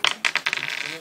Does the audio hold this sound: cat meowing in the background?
no